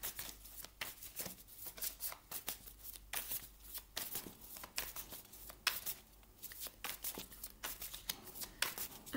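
Tarot cards are shuffled by hand in quick, repeated bursts of papery riffling and flicking, close and quiet, continuing steadily with short pauses between runs.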